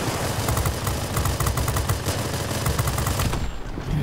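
Rapid machine-gun fire strafing a fighter plane in the World of Warplanes air-combat game, XP-55 Ascender, a loud continuous rattle of bursts over engine drone that cuts off abruptly near the end.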